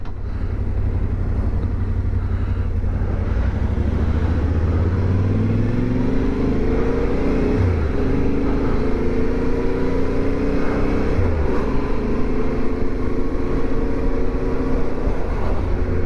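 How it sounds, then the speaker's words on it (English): A car engine rising steadily in pitch as it speeds up, loud and close, with a continuous droning rumble that climbs and wavers over the whole stretch and no voices. "he's speeding up for no reason at all"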